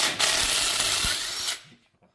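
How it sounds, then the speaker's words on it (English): A Harbor Freight impact wrench with an 11/16 socket removes a nut on the front axle of a 1978 Ford F-250, giving one loud, close burst of rapid hammering that lasts just over a second and then stops sharply. "Put it on your Harbor Freight gun."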